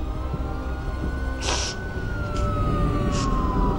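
Ambulance siren from the 1998 film Urban Legend, a single long tone slowly falling in pitch over a low rumbling background, with a few brief bursts of hiss breaking in.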